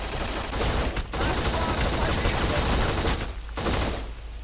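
Unsuppressed gunfire in the Xbox shooter game Black, a dense, loud, continuous burst of rapid shots with two short gaps.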